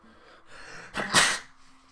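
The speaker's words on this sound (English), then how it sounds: "Here's the sneeze." One sharp sneeze from a person, a quick intake followed by a loud explosive burst, close to the microphone and over a quiet background hum.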